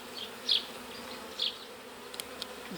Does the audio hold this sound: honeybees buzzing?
yes